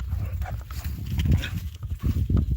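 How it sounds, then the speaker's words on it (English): A homestead dog in a half-acre garden, giving a few loud, rough vocal bursts up close, no talk. "My dog is crazy, man."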